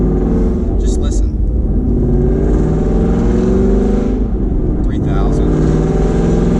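Car engine nearly out of fuel, revving steadily and loud from close by with a rising and falling drone, under occasional talk.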